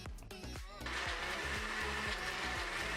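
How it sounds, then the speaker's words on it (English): A kitchen blender whirs steadily after a brief start-up, churning ripe plantain puree mixed with plantain flour paste into a smooth batter, its motor drone constant and close. "Then I'll pour the paste into the blender and blend again to combine everything together."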